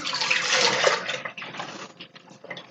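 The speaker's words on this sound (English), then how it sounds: "So I'm going to pour this milk in" Milk pours from a jug into a crockpot in a steady splashing stream for about two seconds, then trickles and gurgles as the pour tapers off.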